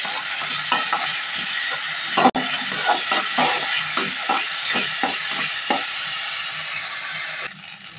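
Drained Gobindobhog rice sizzles in a hot pan while a spatula scrapes and stirs it in repeated rhythmic strokes, with one sharp knock partway through and the hiss dropping near the end.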